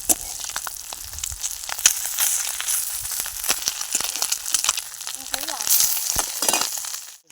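Fish fries in a pan, a loud continuous sizzle with crackling spikes and occasional stirring or scraping clicks, close up throughout.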